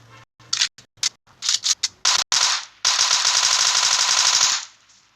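Rapid gunfire from the video game PUBG Mobile: several short bursts of shots in quick succession, then a long sustained automatic volley of evenly spaced rounds, loud and close, with no talk.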